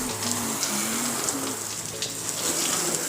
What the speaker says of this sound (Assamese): তাতে বৰষুণ দি আছে।